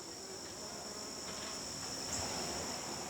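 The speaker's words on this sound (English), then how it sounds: "A loud buzzing field is a healthy field because there's just tons of insects, a lot of hymenopterans, you know, bees and wasps that are making that buzzing noise." A field full of buzzing insects, bees and wasps among them, gives off a steady, continuous drone with a high insect whine running through it, evenly loud for the whole stretch and free of talk.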